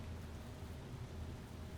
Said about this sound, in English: is it meant to rain inside?